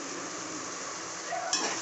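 Tomatoes sautéing in a pan for an egg gravy, a soft, steady sizzle with faint utensil clinks toward the end.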